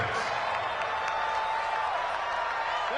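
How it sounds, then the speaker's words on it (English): Football stadium crowd cheering and applauding ahead of a big third down, a steady roar held throughout with broadcast commentary over it. "the crowd getting into it as we come up on a big 3rd down"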